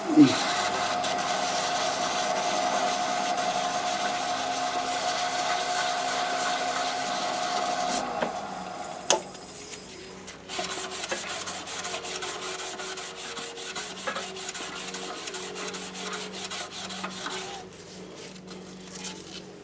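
A serpentine pen blank is wet sanded with 400 grit sandpaper on a spinning lathe, giving a steady, close rubbing hiss over a motor whine that drops partway through and continues rougher and quieter.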